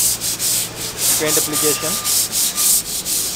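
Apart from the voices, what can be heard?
sanding fire fighting pipe with sandpaper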